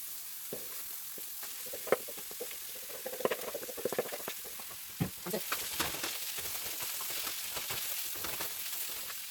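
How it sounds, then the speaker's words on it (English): Fish goes into a hot pan of oil for Cameroon fish roll. Soft sizzling and light frying with scattered stirring taps builds to a steadier hiss. "So after 2 minutes, I'm gonna go ahead and add my fish."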